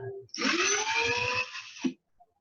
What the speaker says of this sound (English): you're going to be taking a copper wire, sticking it into the drill here, okay, and it's going to wrap around